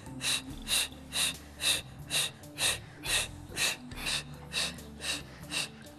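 Rhythmic, forceful breaths repeat about ten times in a steady pattern during an exercise class, each a loud huffing exhale heard up close, with faint background sound between them.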